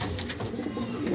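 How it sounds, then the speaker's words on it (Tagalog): Pigeons coo softly and continuously at close range in a loft where birds are pairing up, with a steady murmuring bird ambience. "Ang gagandang ibon yan."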